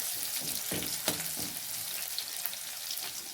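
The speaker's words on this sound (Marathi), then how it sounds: "ते 8 मिरच्याचे स्लाइस आपण कापून घेतलेले आहे ते कढईमध्ये टाकत आहोत." Sliced green chillies hit hot oil in a wok and sizzle steadily, with a few soft scrapes of stirring, close and moderately loud with no talking.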